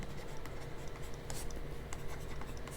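Pen scratching out a handwritten maths solution, a continuous close scratchy stroke sound with brief pauses and no talk.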